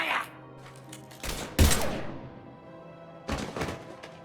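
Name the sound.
gunfire in the video game Mass Effect 3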